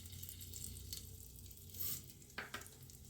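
Cumin seeds dropped into hot oil with asafoetida for a dal tadka, giving a steady faint sizzle with a couple of brief sharp clicks near the end.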